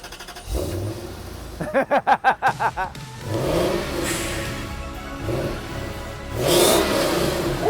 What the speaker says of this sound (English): This is legit the first time you're gonna start this Bakkie